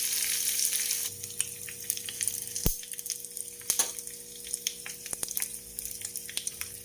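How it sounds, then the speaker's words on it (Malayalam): Mustard seeds splutter and crackle in hot oil with dried chillies and curry leaves on a gas stove, scattered sharp pops over a quiet sizzling background, close and fairly soft. "ഇനി കടുക് ഒന്ന് പൊട്ടട്ടെ"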